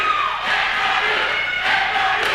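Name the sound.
basketball crowd cheering before playoff game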